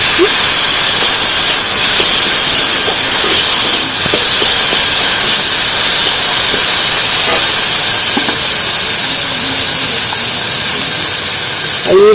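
Steady, loud sizzling and hissing of fried potatoes added to hot oil, continuing without a break from start to finish.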